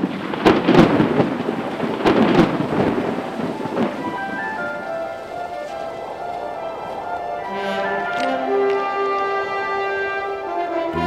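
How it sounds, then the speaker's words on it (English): A violent spring thunderstorm on the plains: loud, close thunder cracks and rumbles over steady rain, then the rumbling fades while rain keeps falling. "Spring brought violent thunderstorms that could spawn tornadoes."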